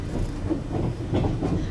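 A sleeper train rolling on rails between Halifax and Montreal, heard from inside as a steady low rumble with rhythmic clickety-clack of wheels over track joints.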